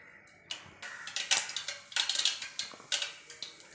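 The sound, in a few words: mustard seeds popping in hot oil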